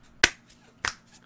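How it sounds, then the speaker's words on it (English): Two crisp finger snaps, close and sharp, about half a second apart, over a quiet room. "snapping, clapping, my hands are flying."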